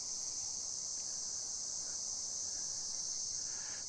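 Summer cicadas drone steadily outdoors under a stormy sky, a dense, even, high whine that never lets up, moderately loud and alone without any voices.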